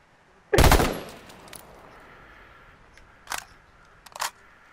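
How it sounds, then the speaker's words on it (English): Video-game gunfire: one loud sharp blast rings out and decays, then two quieter shots follow later over a low steady background hum. "He shot his gun, you heard it?"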